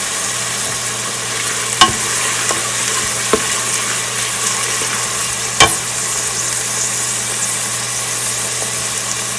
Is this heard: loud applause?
no